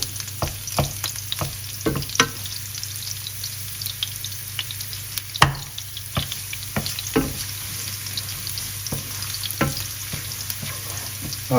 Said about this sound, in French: on va ajouter notre ail et on va le faire chanter, on va le faire légèrement revenir, limite presque frire un peu